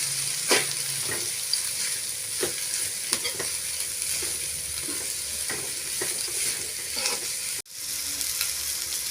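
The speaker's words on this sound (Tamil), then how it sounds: "எல்லா வெஜிடபிள்ஸ்லையும் நல்லா வதக்கி விட்டுக்கலாங்க." Vegetables for vegetable fried rice being stirred and sautéed in a hot pan, a steady sizzle with repeated scraping stirs, close and continuous.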